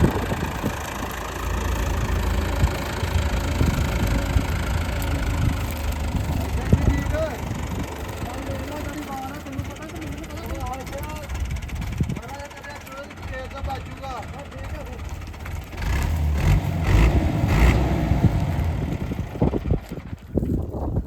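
A New Holland 850 tractor, brand new, runs with a steady low diesel rumble throughout, with wind buffeting and people talking over it part of the time.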